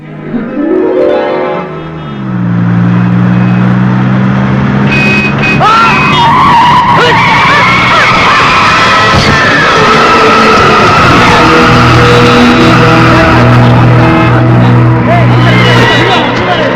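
Tires screech and skid over a roaring car engine, loud and sustained, with a crowd's babble mixed underneath, as a car hits an elderly woman at a road junction.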